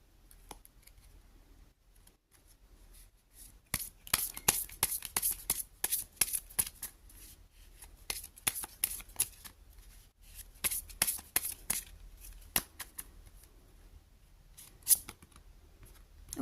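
Message cards for a tarot-style reading are shuffled by hand in a long run of crisp, rapid riffling bursts, close and clear. The flurries start and stop in irregular clusters against a quiet room with no talking.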